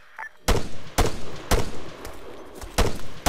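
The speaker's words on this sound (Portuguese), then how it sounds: "tá rolando muito tiro" Gunfire in the Arma 3 video game: five heavy, sharp shots spaced irregularly about half a second to a second apart, each with a booming tail, loud and close with no talk.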